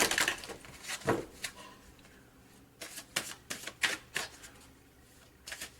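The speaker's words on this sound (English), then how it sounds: "Get one more shuffle in here." Repeated riffling and flicking of cards in short bursts, with a sharp snap near the start and a quick flurry of shuffles later, close and moderately loud.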